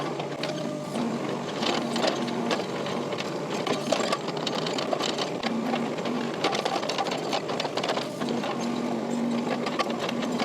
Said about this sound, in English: As I back blade this with the excavator, it's also crushing some of the clay